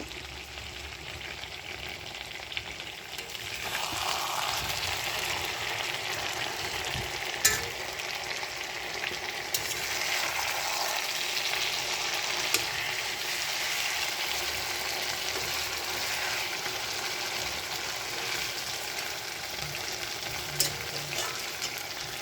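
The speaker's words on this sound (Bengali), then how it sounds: "মাংস যখন এরকম ফুটতে আরম্ভ করবে তখন মানে এটা কষানো হয়ে গেছে" Meat braising in oil in a pot gives a continuous close, soft sizzle and fizz, scattered with small crackles and occasional sharper pops, steady throughout with no talking.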